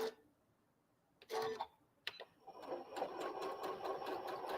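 A sewing machine stitches quilt fabric pieces close by, starting with short bursts of whirring and then settling into a steady, rapid mechanical hum with fine ticking, no voices.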